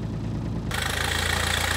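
A farm tractor's engine runs steadily as the tractor is moved onto a six-wheel truck. The loud, close, even idle shifts to a brighter, harsher tone partway through.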